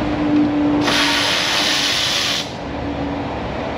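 A power driver backs Torx wood screws out of a Volkswagen wheel liner in a repair shop, giving a loud steady whir and hiss that holds for about a second and a half, then cuts to a quieter shop hum.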